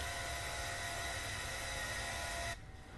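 Steady, loud broadband roar of Boeing 737-800 CFM jet engines during a climb in the PMDG flight simulator, continuous and unbroken, dropping suddenly in level near the end.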